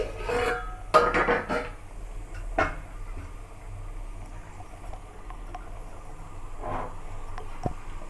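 A few metallic clanks and scrapes as a lid is lifted off a pot of simmering taro root curry, then a quiet bubbling background with a couple of faint clicks.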